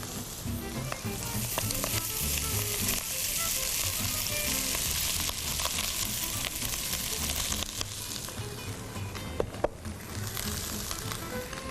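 Rice for vegetable egg fried rice frying in a pan, a steady, dense sizzle that holds for several seconds, with occasional scrapes and a couple of sharp knocks near the end.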